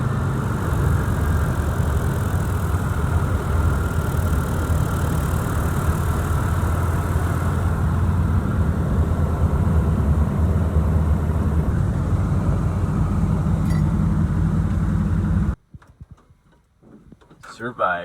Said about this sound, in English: the pilot began a very steep and fast descent to Adventure Lake